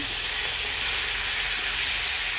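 A fish head fries in a pan with a constant, close, loud sizzle and crackle of hot oil, uninterrupted and without voices.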